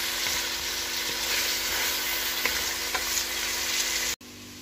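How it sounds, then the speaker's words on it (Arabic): Carrots fry with onions in a pan for a vegetable and meat soup, a close continuous sizzle broken by light scrapes of stirring, ending abruptly in a quieter hum. "بنضيف عليه الجزر مشان يتقلى مع البصل. كل شوي والثانية بتصيروا بتقلبوا هيك."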